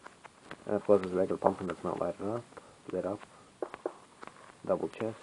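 A steady electrical buzz from a glitch in the beta version of Minecraft Pocket Edition hums continuously beneath a man's close, clear narration.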